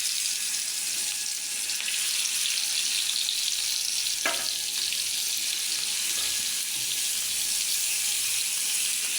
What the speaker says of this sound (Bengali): এখন আমি এক এক করে মাছগুলো ভেজে নিচ্ছি।